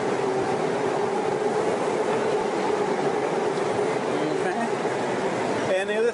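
A Bangkok SkyTrain moves through an elevated station at night with a loud, steady rolling rumble and faint wheel clatter that lasts the whole stretch, while people talk under it.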